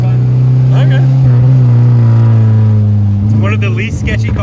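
A salvaged, modified Dodge Neon SRT-4 drives along, its engine drone loud and steady inside the cabin, with people talking over it throughout.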